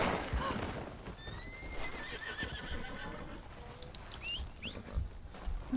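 A horse whinnies in Red Dead Redemption 2, its neighing calls rising through the game's outdoor ambience along with some clip-clop hoof sounds. The cries are fairly close and carry over the background.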